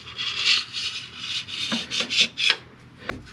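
Lisle carbide hand scraper rasping across a Jeep/Dodge/Chrysler transmission mating surface, a series of short, close scraping strokes with a brief sharp scrape near the end, no talking.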